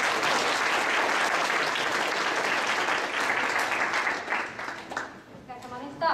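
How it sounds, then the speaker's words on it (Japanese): Sustained audience applause at the Quest Cup 2015 event, loud and dense for about four seconds, then thinning out and briefly swelling again at the end. "最後にもう一度大きな拍手をお願いいたします。"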